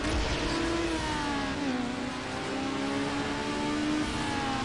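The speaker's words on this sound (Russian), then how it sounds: "Эх, перегазовка" Mazda Miata engine revving in the racing game Need for Speed Underground, a steady loud buzzing rev that rises and dips slightly in pitch before a drag start, heard alone and close.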